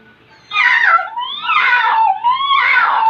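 A human voice imitates a cat, giving three drawn-out, wavering meow-like cries in quick succession, close and fairly loud, among a playful run of animal-sound imitations.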